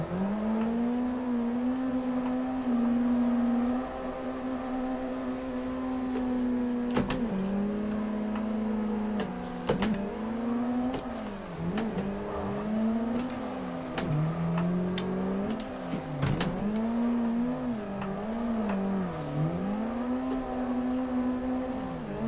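Simulated car engine in Assetto Corsa on a drift circuit, holding a steady loud drone that dips and swoops repeatedly as the revs rise and fall through slides, with no talking.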